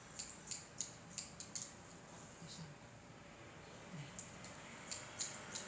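Quiet, crisp snips of scissors trimming a spaniel's fur come in quick bursts, pause, then resume, with faint low handling noise beneath.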